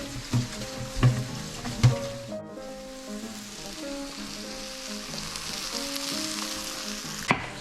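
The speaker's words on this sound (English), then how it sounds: "We're just browning right now." Osso buco pieces browning in a hot pan, a steady close sizzle and crackle of frying meat with a few louder spatters and occasional knocks near the start.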